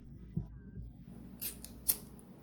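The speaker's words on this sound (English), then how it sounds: "Cuts with scissors" Scissors snip through thread while a pearl necklace is being finished, with a couple of short, crisp cuts close by over a quiet background.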